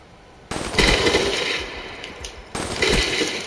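Scoped gun firing in a video game in two loud bursts of rapid shots, each starting abruptly and ringing out for about two seconds, with no talking.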